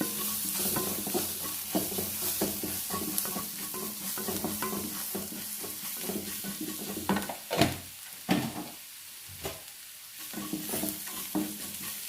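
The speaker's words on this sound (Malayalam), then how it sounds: "ലേശം മഞ്ഞൾപ്പൊടി ഇട്ടിട്ടുണ്ട് കുറച്ച് കാശ്മീരി ചില്ലികൾ ഇട്ട് കഴിഞ്ഞാൽ നല്ല കളർ കിട്ടും നമുക്ക് ഇതാ കുറച്ച് ചേർത്തിട്ടുള്ളൂ അപ്പോൾ അതും ഇട്ടിട്ട് നന്നായിട്ട് ഇളക്കിയെടുക്കാം" Turmeric and Kashmiri chili being stirred into onions in a frying pan: steady close sizzling with repeated scraping stirs of a spoon, continuous and alone.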